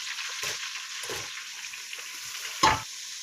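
Onions added to a pan while making upma give a steady sizzling fry with a few louder stirring scrapes, close and alone with no talk.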